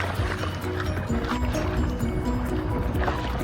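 Kayak pushing through choppy sea waves, with close splashing and sloshing water against the hull and a rushing wash that carries on throughout.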